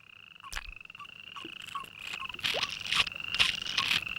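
A toad croaks in a run of short calls, a few sparse ones early on, then louder repeated croaks toward the end, over a steady high insect-like drone.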